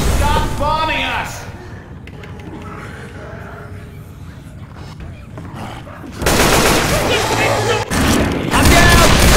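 Booming explosions and gunfire in the Left 4 Dead 2 level The Parish, The Quarter, on Expert, loud bursts at the start and a heavier barrage in the final seconds, with players shouting over the game.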